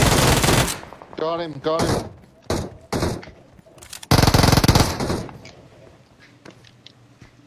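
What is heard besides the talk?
gunfire in the video game Fortnite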